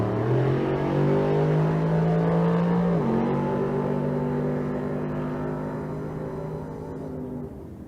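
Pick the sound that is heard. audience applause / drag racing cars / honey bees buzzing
drag racing cars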